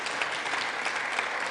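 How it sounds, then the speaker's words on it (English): Steady, dense applause from a large audience, a continuous wash of clapping held at an even level throughout. "Dude, they keep fucking clapping."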